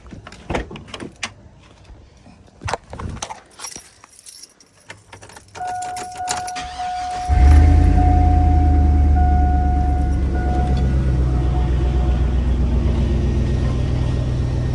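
A car engine starts after handling at the door and keys, then settles into a steady, close idle that runs to the end, with no one talking over it, following a new grille install.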